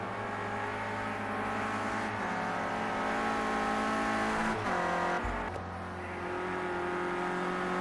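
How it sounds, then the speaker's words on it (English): Clio race cars lapping in a PS4 racing game, a steady loud engine drone with layered revving tones throughout, a brief pass-by dip midway, no talk over it. "So we see the cars making their way through for lap number 6."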